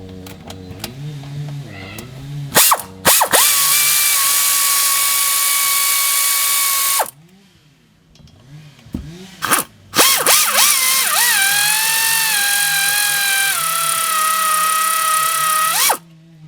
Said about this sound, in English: So let's go ahead and take those two 17mm bolts off first.